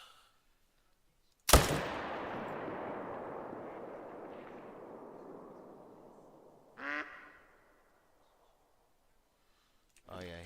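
A hunting rifle shot in theHunter: Call of the Wild cracks sharply once, then a long rumbling echo fades over several seconds, with a brief fainter burst near the end.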